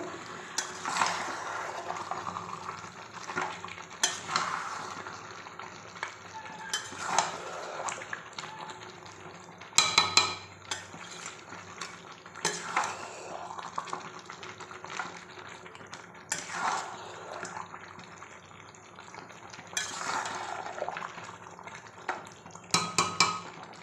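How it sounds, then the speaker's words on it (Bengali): Curry frying in a pan is stirred now and then, with repeated scraping and sloshing strokes over a soft, steady sizzle, close and moderately loud with no talking. "তো মাঝে মাঝে নাড়াচাড়া দিচ্ছি যাতে নিচে না লেগে যায়"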